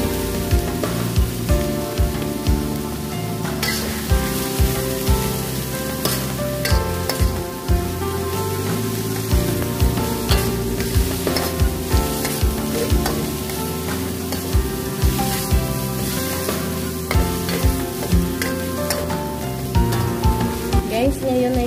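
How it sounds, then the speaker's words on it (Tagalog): Ground meat sizzles and fries with garlic in a pan while being cooked for Filipino palabok, a steady crackling sizzle with frequent stirring scrapes close up, plus a busy, dense, cluttered background. "nilalagay ko na yung karne."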